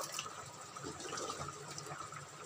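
Water is poured into a pressure cooker holding pieces of mutton, making a faint, steady splashing gush that lasts throughout with no voices.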